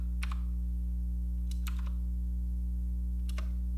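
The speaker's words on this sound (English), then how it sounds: "I'm going to go ahead and type something in here right now" Keys on a computer keyboard are tapped in three short bursts of soft clicks, close and faint over a steady low electrical hum.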